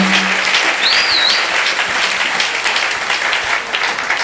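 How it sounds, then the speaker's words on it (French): A church congregation at a teaching service claps steadily together in loud, dense applause, with a brief high whistle-like tone near the start and the clapping carrying on to the end. "Si il y a la joie d'écouter la parole, manifestons par les acclamations"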